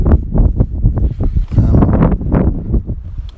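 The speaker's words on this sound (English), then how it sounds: "As you can tell, it's a bit windy." Strong wind at a beach buffeting the microphone, loud gusty rumbling in irregular bursts close up throughout.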